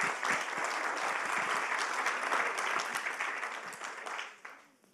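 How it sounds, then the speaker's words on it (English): Audience applause at a Human Rights Commission awards meeting, a dense, steady clapping that fills the room for several seconds before fading out at the end. "One more round of applause for Betty, please."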